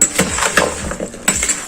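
A spoon clinks and scrapes against a bowl while fruit chaat with sugar is stirred, giving repeated close, bright strikes in an uneven rhythm with no talking.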